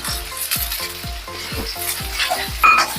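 Curry leaves and potatoes frying in a pan for sabudana khichdi: a steady close sizzle with crackles and spattering, over a regular low thumping rhythm running throughout.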